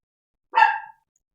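A dog gives a single short, sharp bark, close and loud, in otherwise total silence.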